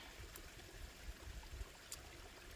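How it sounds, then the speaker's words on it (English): Water pours steadily into a bottle outdoors on a trail hike, a soft continuous trickle with faint gurgles, fairly quiet and with no talking. "So I'm just going to pour 1 liter in"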